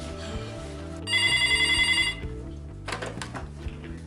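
A telephone rings with a bright electronic trill in a loud burst of about a second, set against background music, followed by quieter rustling.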